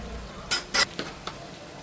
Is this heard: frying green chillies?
yes